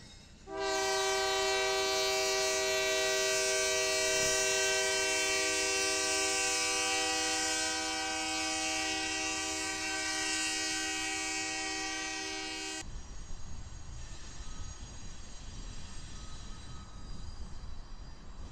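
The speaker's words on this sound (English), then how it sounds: "This train is currently on the UP Harrisburg sub and will be routed onto the UP Houston sub at West Junction" A freight train on the Union Pacific Harrisburg subdivision sounds a long, loud, steady horn blast for about twelve seconds, then rolls past with a rumbling wheel and rail roar.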